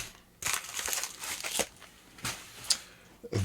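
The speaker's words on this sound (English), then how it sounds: "Might have torn into the baggie there." A small plastic parcel bag from AliExpress holding glass fuses is crinkled and torn open at close range, in several rustling bursts with short gaps between them.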